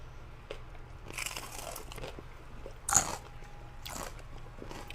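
A crisp crunch as someone bites into a taco, one sharp loud bite near the three-second mark amid a few softer crackles and chewing sounds, close up with no talking.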